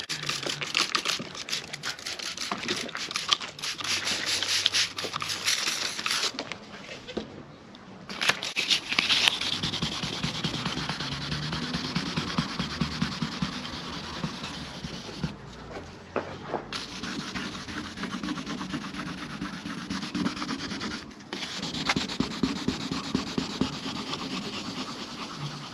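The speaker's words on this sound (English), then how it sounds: "So I'm going to wet sand it down with 3000 grit." Steady wet rubbing and scraping of 3000 grit sandpaper over a car's painted surface to remove deep scratches, continuous and close for the whole stretch with brief pauses between strokes.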